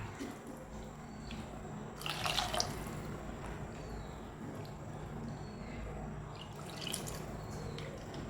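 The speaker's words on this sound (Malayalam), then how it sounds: "ഇനി കുറച്ച് തക്കാളി അരച്ച വെള്ളമുണ്ടല്ലോ അതുകൂടെ ഉണ്ട് അതുകൂടെ നമുക്ക് ചേർത്ത് കൊടുക്കാം" Water from pureed tomato is poured into a pepper fish curry made with pearl spot fish, giving faint splashing and trickling over a low steady background, with two brief louder bursts of pouring.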